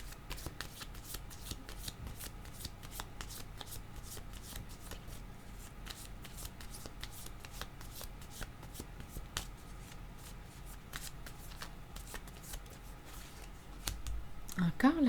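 Tarot cards being shuffled by hand, a steady close riffling and soft flicking that runs continuously for the whole stretch, with a voice breaking in briefly at the end.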